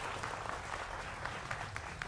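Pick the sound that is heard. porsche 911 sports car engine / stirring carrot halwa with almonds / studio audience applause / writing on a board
studio audience applause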